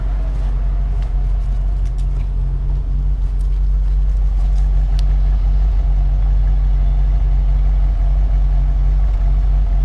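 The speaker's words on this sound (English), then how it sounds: "I think I hear a little bit of a misfire" Truck engine idling with a slight misfire, a close, steady low rumble that holds evenly for ten seconds with no voices over it.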